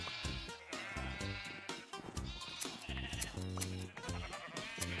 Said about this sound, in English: Sheeps!